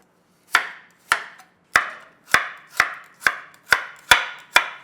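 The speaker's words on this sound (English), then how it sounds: "Cut around 2 inches." Knife chopping vegetables such as carrot and green chili pepper into 2-inch pieces on a cutting board, nine sharp, evenly spaced chops close up with no talking.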